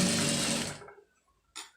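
A sewing machine stitches piping in a short burst that cuts off sharply, followed by near silence and a brief second whir at the end.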